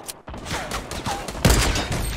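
Rapid bursts of gunfire in the Fortnite battle royale video game, several sharp cracks crowding together in a short fusillade at mid distance, with one louder shot standing out partway through.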